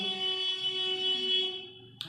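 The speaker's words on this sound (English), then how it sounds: "that's a tortilla guy beeping for people to buy tortillas" A tortilla vendor's horn: a steady, buzzy electronic tone holds for nearly two seconds, then cuts off, followed by a brief click.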